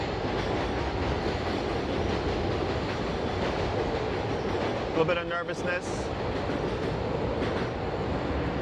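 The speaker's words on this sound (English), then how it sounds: "Train's coming." A train rumbles past steadily and loudly, a continuous rolling roar with a brief clickety-clack burst of wheels midway, while a person speaks briefly over it.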